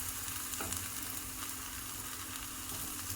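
Vegetable dalia being stirred in a 3-litre kadai, a soft continuous sizzle with faint spoon scrapes, fairly quiet and without talk.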